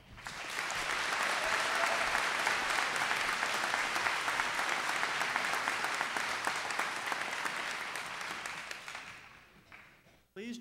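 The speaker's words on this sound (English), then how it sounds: "Please join me in a round of applause for all of our graduates" Sustained applause for graduates at a 2018 commencement ceremony, a large crowd clapping steadily and densely for about ten seconds before tapering off abruptly, heard from within a big hall.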